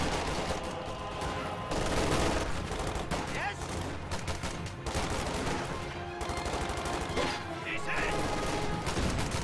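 Dense video game battle gunfire from a World War II strategy match between American and German forces, with bursts of rifle and machine gun fire and explosive crashes from a rifle grenade, loud and continuous.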